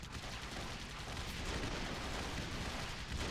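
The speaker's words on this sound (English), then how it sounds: "So I'm just recklessly firing." Rapid gunfire from a Paladin AirMech in AirMech Arena, heard as a continuous barrage of overlapping shots and blasts, dense and steady throughout at moderate loudness.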